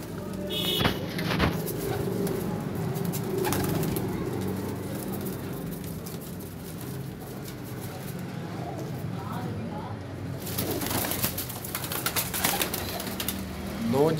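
Pigeons for sale, including a blue-tailed bird, give soft low cooing in a loft while someone talks throughout, with brief wing flaps and faint traffic in the background.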